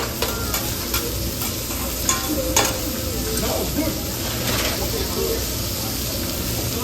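Scallop sizzling on a hot hibachi grill at a Benihana restaurant: a steady frying hiss with scraping and clinking from a spatula, heard under diners talking nearby.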